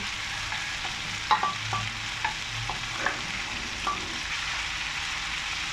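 Squid stir-fried with holy basil in plenty of oil, a dense continuous sizzle with scattered soft clicks of a spatula against the pan, close and without speech.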